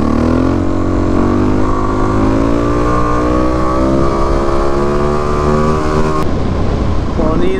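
A Suzuki DRZ motorcycle engine held at a loud, steady drone during a stunt ride in a lot, close to the rider, with a sharp change near the end and a voice over it.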